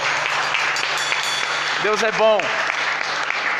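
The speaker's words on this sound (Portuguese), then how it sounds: "Vamos aplaudir o Senhor, meus irmãos." Church congregation applauding at the close of a Sunday service: steady, dense clapping from a crowd throughout, with a voice speaking briefly over it midway.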